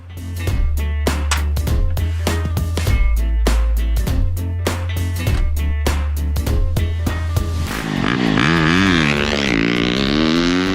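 A 2023 Christini 2x2 all-wheel drive dirt bike engine runs loud and close with a steady low drone, punctuated by rhythmic sharp bursts, then swings into rising and falling revs near the end.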